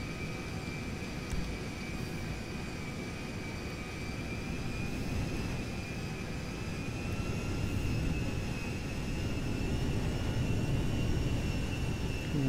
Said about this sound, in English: You have clearance for taxi to runway 1 for departure.